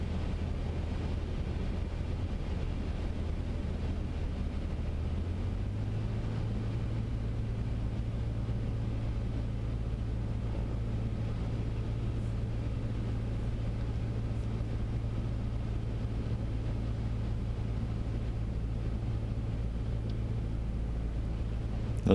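Cessna 152 engine at reduced power during a circuit approach at Prestwick, a constant droning hum from inside the cockpit that steps to a slightly higher steady tone partway through.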